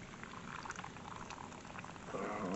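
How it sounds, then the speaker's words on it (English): Coffee is poured into a cup in a soft, continuous liquid trickle and gurgle that swells louder toward the end, quiet and close, with no speech. "let's go ahead and then pour some coffee here. I know a lot of you guys like to see coffee being poured."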